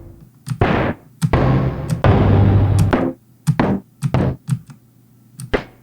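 Dungeon drum samples from a sampler instrument play one after another, a series of loud close knocks and deep thunks, some ringing out briefly, with short gaps between hits.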